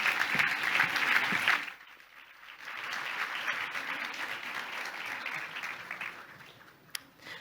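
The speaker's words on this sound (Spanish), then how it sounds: "Un aplaudiment per ells i també per vosaltres" Audience applause at a public talk on climate change and technology, loud dense clapping for about two seconds that breaks off and gives way to a quieter, steadier patter of clapping continuing to the end.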